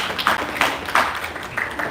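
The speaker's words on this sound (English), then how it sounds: "You can give all of yourselves a good round of applause" An audience applauds at a Narsimha Caturdasi hall program in Oran Park, a brief patter of clapping with a few louder bursts, moderately near and fairly faint.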